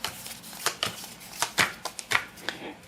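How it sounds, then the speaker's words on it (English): A deck of board game cards for the game Cuba: El Presidente is shuffled by hand, a run of quick, crisp riffling bursts close by with short gaps between them, no voices. "Take the cards, you'll shuffle them up again"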